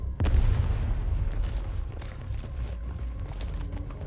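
A frag grenade detonates in the Arknights video game: one sudden, heavy boom near the start, followed by a sustained rumbling, crackling tail of combat noise that stays loud to the end.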